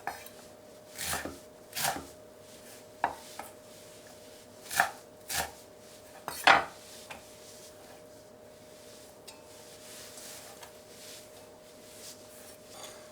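A knife cuts through cooked chwinamul (aster greens) on a cutting board for a seasoned salad, making about eight sharp, irregular chops close by. A faint steady hum sits underneath.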